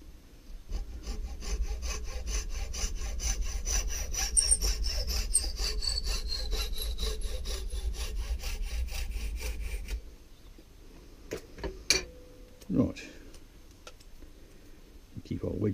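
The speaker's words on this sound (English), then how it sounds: "And our hacksaw." A hacksaw saws during the restoration of a found rounding hammer, making fast, even back-and-forth rasping strokes for about ten seconds. It then stops, and a few isolated knocks and clanks follow.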